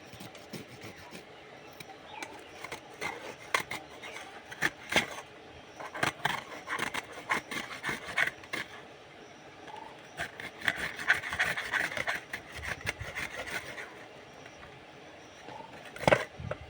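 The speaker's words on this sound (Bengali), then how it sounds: "আদা রসুনটা ঘষে নেওয়া হয়ে গেছে।" Ginger and garlic grated by hand on a grater, irregular bursts of rasping scrapes with short pauses between strokes, close and fairly quiet, no talking.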